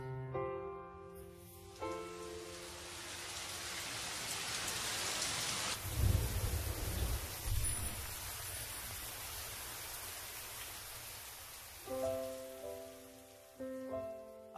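Heavy rain pours in a steady hiss with rumbling thunder rolling through the middle, loud and close, while soft music plays at the start and end.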